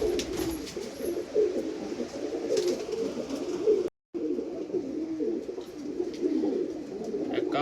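Jarnail Kanewale pigeons, blue and pied, coo in a steady, close chorus of low throaty murmurs that overlap continuously, with only one brief gap in the sound.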